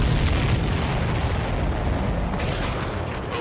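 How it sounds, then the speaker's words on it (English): A sustained, heavy explosion rumble from the jet combat video game Ace Combat 7 fills the whole stretch, loud and broad with a steady roar that slowly eases, no speech over it. "Did you see that explosion?"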